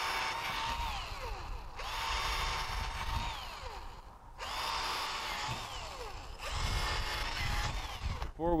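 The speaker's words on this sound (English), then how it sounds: "you can just drill your holes right through the" A power drill boring holes for a horse hoof shoe, whining in three sustained bursts with pitch rising as it spins up and falling as it slows, close and loud, with no talking.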